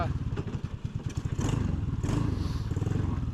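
A Helix 150 go-kart engine idles with its idle set too low, so it keeps wanting to stall, producing a loud, close, rapid throbbing pulse that sags and recovers, with voices faintly underneath.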